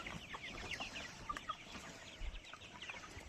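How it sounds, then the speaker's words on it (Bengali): Tiger chickens, five hundred of them, cluck and chatter in a farm shed, a busy layered flock of soft calls rising and overlapping throughout, fairly quiet and without talk. "আমার এখানে 500 টাইগার মুরগি আছে"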